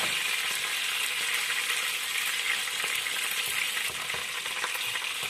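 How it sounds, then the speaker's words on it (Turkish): Chicken wings sizzle steadily in a pan, a continuous bright crackle of hot oil with small pops throughout, close and fairly loud with no voices. "İkincisi de kızartırken"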